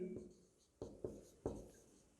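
Chalk or pen strokes on a board during a maths class, a few quiet scratchy taps spaced unevenly across about two seconds, faint with no voice over them.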